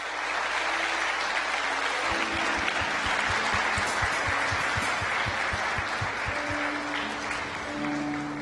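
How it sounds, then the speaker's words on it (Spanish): Church congregation applauding during a Tuesday service, a steady dense wash of clapping that fills the whole stretch, with rhythmic low thumps and faint sustained tones running underneath. "No sé si le puedo dar un aplauso al Señor esta mañana"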